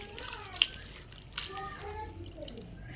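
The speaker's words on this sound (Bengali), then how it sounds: "এবার উস্তেগুলো ভালো করে কসলায় কসলায় ধুয়ে নেব।" Bitter gourds being washed by hand in water, with faint drips, a couple of soft splashes and quiet trickling close by.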